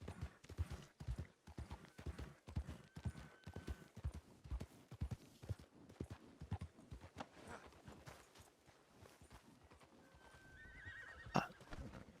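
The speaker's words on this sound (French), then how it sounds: "Ah, des chevaux." Horses in a Red Dead video game roleplay neigh and whinny over steady clip-clopping hooves, with a loud, close whinny near the end and a softer call earlier.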